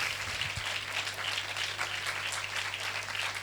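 A church congregation applauding to thank God, steady dense clapping from many hands throughout, fairly loud and filling the room, with no pause.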